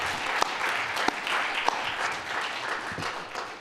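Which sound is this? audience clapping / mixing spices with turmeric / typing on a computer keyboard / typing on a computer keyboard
audience clapping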